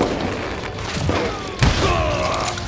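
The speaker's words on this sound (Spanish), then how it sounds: "Me encanta cómo suenan los disparos." Gunfire in the Western shooter Call of Juarez: Gunslinger, a dense burst of loud shots and booms with one sharp, heavy report near the middle, over a busy game soundscape.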